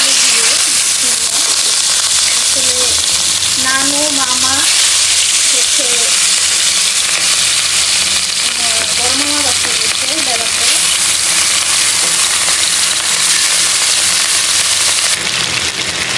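Katla fish pieces frying with eggplant and potato in a home kitchen pan give a steady, loud sizzling hiss throughout, with brief snatches of voices in the background.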